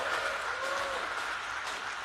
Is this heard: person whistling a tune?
no